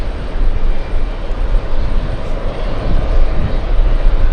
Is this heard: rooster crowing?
no